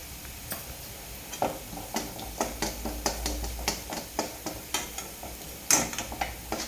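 Mustard seeds, cumin and turmeric sputter in hot oil for a tempering, a quick series of sharp ticking pops over a low sizzle, fairly close.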